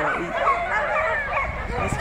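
Sled dogs at a canicross start yip and bark excitedly in the background, a busy overlapping chorus under a person talking over it.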